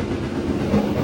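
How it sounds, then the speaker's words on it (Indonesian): The Kahuripan economy-class passenger train runs steadily on its rails, with a loud, continuous rumble and faint rhythmic clatter of wheels heard from inside a carriage. "Perjalanan kereta api Kauripan sekarang tiba di stasiun Kebumen"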